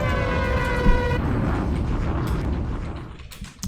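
A descending siren-like whistle drops away in a bomb-drop sound effect, then a rumbling blast and noisy crackling roar follow, fading out near the end.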